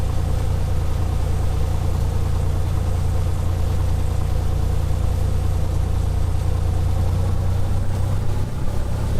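A2A Comanche 250 engine running steadily while taxiing in FSX, a loud, even low-pitched drone with no breaks and no talking.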